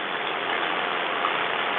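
A paramotor engine runs close by in a steady, dense drone with no talking over it.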